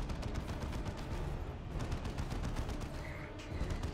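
Continuous battle gunfire from a Dawn of War 2: Retribution match, dense rapid automatic shots and bursts layered into a steady roar of combat that stays loud throughout the four seconds, with no voices over it.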